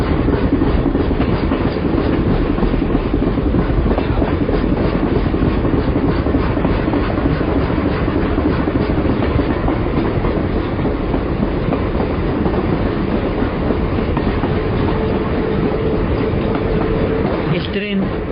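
A train runs steadily along railway tracks with a continuous loud rumble and rhythmic clickety-clack of wheels over rail joints, close by and unbroken throughout.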